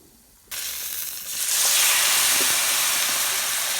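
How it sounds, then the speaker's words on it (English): A loud, steady sizzle of food frying in a hot pan before sauce is added, jumping in from near silence and holding a bright hiss throughout, no talking. "So I'm just going to fry this just a little bit more"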